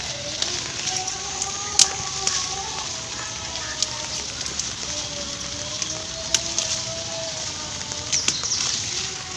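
Rain falling on garden plants, a steady hiss of drops on leaves with occasional sharper taps and faint bird-like tones in the background.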